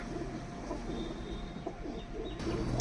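Soft coos from Royal Teddy pigeons murmur low beneath a steady background hum, faint and close.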